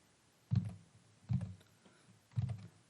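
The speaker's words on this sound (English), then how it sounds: "So I'm just going to type that in right now." Three separate bursts of keystrokes on a computer keyboard while lyrics are typed in, each cluster of clicks about a second apart, close and fairly quiet.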